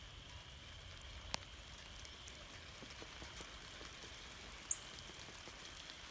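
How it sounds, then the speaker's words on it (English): Rain patters steadily on a barn roof, a soft continuous hiss with a couple of sharper drip taps, heard from inside at low volume. "I hear the rain on the roof of the barn"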